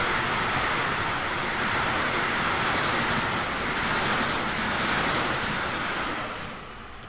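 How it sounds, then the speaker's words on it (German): In the Train Simulator Classic game, a class 151 locomotive hauling long container wagons rolls past, a loud, broad rumble with faint rail clatter that holds steady and then begins to fade near the end. "Bleibt noch die Frage, was da gleich durchrollt. Eine 151 mit Containern dran."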